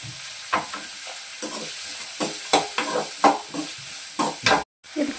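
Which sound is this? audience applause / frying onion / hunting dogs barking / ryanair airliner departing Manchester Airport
frying onion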